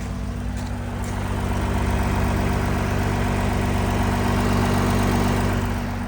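A 2014 Audi A6 C7 3.0 TDI quattro diesel idles steadily nearby, a continuous low rumbling clatter with an even pulsing rhythm that stays level throughout, with no talking.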